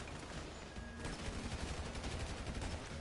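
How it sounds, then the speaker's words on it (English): A combat MG machine gun in GTA V fires in dense, continuous bursts of rapid shots that fill the whole short stretch, loud and close, with no voice over it. "There's a combat MG"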